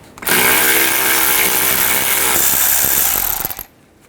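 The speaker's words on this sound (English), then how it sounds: "use an 8mm socket and take these screws out." A power ratchet or impact tool with an 8mm socket spins out shield screws under a 2010-2016 Buick LaCrosse: one loud, close, continuous whirring burst lasting a few seconds, then stopping abruptly.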